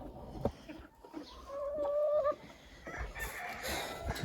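A small backyard flock of hens clucks nearby, scattered soft calls and a couple of drawn-out tonal notes in the middle, with light scuffing and movement around them and no talk.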